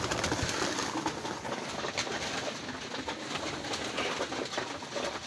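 Racing pigeons feed busily in a loft, soft pecking and rustling mixed with repeated low cooing, fairly faint and continuous with no talking.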